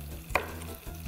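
Food sizzles and fries in a heated pan on a cooking show, a steady close hiss with a brief louder burst of stirring, no voices over it.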